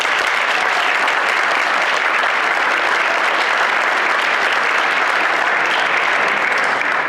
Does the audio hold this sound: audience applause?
yes